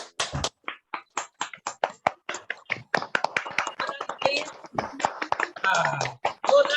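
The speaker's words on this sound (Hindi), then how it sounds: "जितना जोर से हो सके ताली बजाइए" An audience at a business talk claps hands, starting with sharp, evenly spaced single claps that quicken into a denser, louder burst of applause, with a voice speaking over it near the end.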